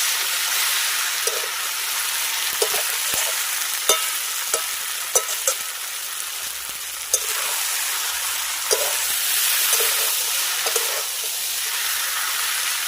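Pitha with fried vegetables sautés in a pan for a bitter Bengali dish, a continuous bright sizzle broken by intermittent clacks and scrapes of a spatula stirring against the pan bottom.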